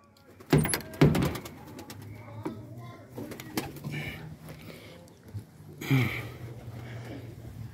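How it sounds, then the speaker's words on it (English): Pigeons kept by a breeder coo and rustle nearby, with a few sharp wing claps and thumps, fairly close and intermittent, while people talk quietly in the background. "he's about to fly his birds now"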